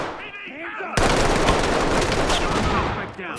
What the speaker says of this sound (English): get into a bit of a firefight here